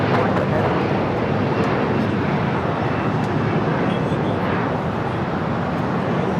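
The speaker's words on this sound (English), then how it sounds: "Got that 777 freighter. Now rolling down the 25 left." A Boeing 777 freighter rolls down runway 25 left at LAX, a steady broadband roar of jet engines holding loud and continuous throughout with no pauses.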